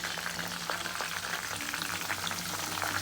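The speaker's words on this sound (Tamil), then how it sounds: "இப்போ நல்லா கொதிக்குது நல்லா கொதிக்கட்டும் சிம்மில் வச்சு" Herbal hair oil simmers in a pan, giving a soft, continuous bubbling sizzle with scattered small pops, fairly quiet and steady, and no one speaking.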